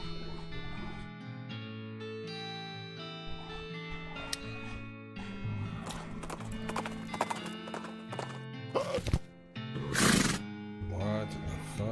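Cartoonish horse clip-clops and whinnies in the Western RPG West of Loathing, with repeated hoof clops and a loud neigh near the end over a background music score.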